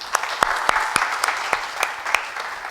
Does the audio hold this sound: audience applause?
yes